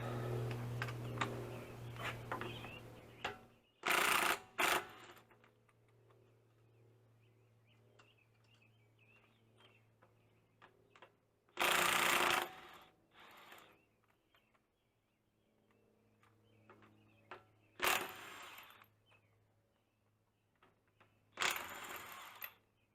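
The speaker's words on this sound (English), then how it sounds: "21 millimeter, take the lug nuts off." Lug nuts being removed from an Infiniti FX35 wheel with a 21 mm socket: several loud, short bursts of ratcheting or impact-tool noise between quieter stretches of faint clicks and handling.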